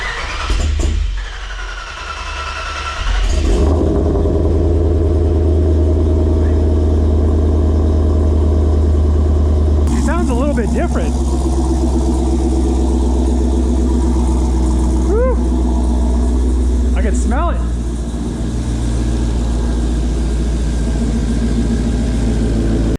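A Dodge Hellcat engine swapped into a Magnum cranks and fires up, then settles into a loud, deep, steady idle with a few brief revs or surges partway through.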